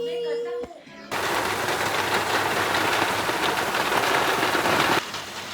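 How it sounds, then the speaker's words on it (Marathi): Heavy rain in Pune roaring as a dense, loud hiss that starts abruptly after a brief moment of quieter room sound and cuts off near the end. "असा आहे पुण्याचा पाऊस आमचा."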